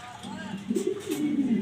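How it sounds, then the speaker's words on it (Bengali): Grizzle racer pigeons coo softly nearby, one low rolling coo swelling up briefly and trailing off. "টপ কোয়ালিটি গ্রিজেল রেসার কবুতর"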